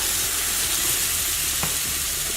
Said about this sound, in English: And add the onions. Cook these for about 3 minutes.